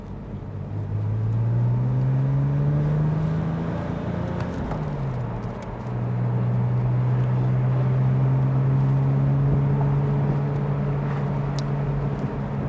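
A black 2009 Porsche 911 Turbo with the top down pulls away, its engine droning steadily with a rising pitch, a brief dip at a gear change, then a sustained cruising note close by.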